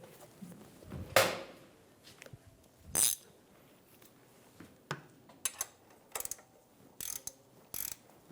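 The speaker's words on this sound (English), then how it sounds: "Snug the bolt down." A ratchet snugs down a bolt on the front lower transmission mount of a 2007-2011 Toyota Camry. Faint scattered clicks and a few sharper metallic clanks come at irregular intervals over quiet background.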